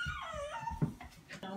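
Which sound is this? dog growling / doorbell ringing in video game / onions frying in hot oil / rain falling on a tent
dog growling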